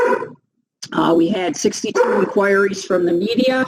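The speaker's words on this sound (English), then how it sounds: "Sorry about that. That's my dog." A pet dog barks in short yapping bursts close by in a home, over and between a man's steady speech.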